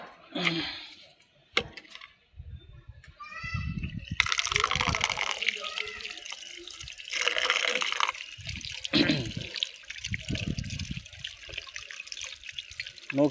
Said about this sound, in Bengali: এখন পানি দিতে হবে